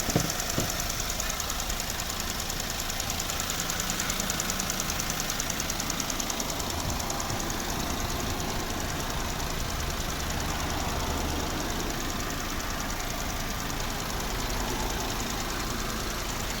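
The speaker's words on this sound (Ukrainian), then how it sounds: "Ось робота двигуна." A 2007 Skoda Octavia Tour 1.6 MPi with automatic transmission idles steadily nearby with a constant rumbling knock, unbroken for the whole stretch and no talking.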